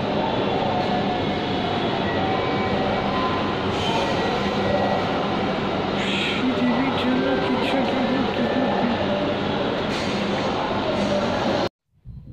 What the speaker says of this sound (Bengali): এই মুহূর্তে ট্রেন আসলো, আর লাইনে দাঁড়িয়ে আছি, ট্রেন থামতেছে।